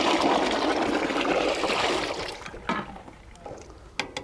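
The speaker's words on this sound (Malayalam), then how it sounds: "നമുക്ക് ഒന്ന് തണുത്ത വെള്ളം ഒഴിച്ചാൽ പെട്ടെന്ന് പൊളിച്ചെടുക്കാം" Cold water pours over boiled quail eggs in a pot, a loud continuous splashing rush that thins into trickles and a few drips and small knocks as the flow stops.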